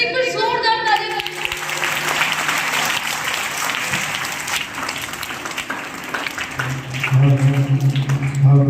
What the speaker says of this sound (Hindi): बच्चे एक बार जोरदार ताली बजाएं